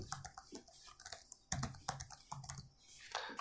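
A search term typed on a computer keyboard: a quick, irregular run of close, crisp key clicks with a few louder taps, and no talking.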